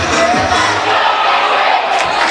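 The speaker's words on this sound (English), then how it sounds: "Great atmosphere, great crowd." A crowd at a high school prep baseball game cheers loudly and continuously, a dense roar of shouting and whooping voices that fills the whole moment without letup.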